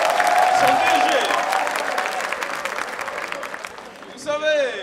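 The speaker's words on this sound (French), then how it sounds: "Applaudissez pour le personnel Sénasa, son DG." A crowd of students applauds the Sénasa staff and director at a theatre gathering in Burkina Faso, a loud burst of clapping that fades over a few seconds before a voice briefly cuts in.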